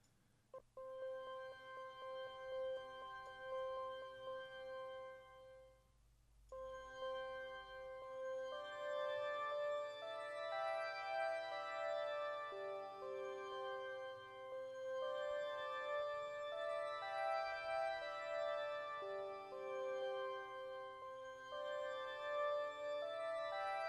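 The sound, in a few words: Kontakt 8 Bloom pad instrument playing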